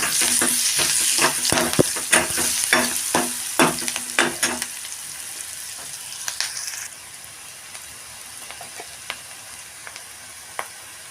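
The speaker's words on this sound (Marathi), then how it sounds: "कांदा पण आपल्याला तेलामध्ये छान परतून घ्यायचा आहे" Onion sautéing in hot oil for a Maharashtrian brinjal curry, a steady loud sizzle with repeated sharp scraping stirs of a spoon against the pan that thin out after a few seconds, leaving a softer hiss with occasional clicks.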